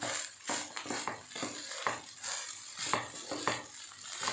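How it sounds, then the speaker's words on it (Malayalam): Beef fried rice stirred in a pan over high flame: a spatula scrapes and taps the pan in quick, rhythmic strokes against a soft sizzle, fairly quiet and close. "നല്ലോണം മിക്സ് ചെയ്യാം. ഇതൊക്കെ ഹൈ ഫ്ലെയിമിൽ വെച്ചിട്ട് വേണം ചെയ്യാൻ കേട്ടോ."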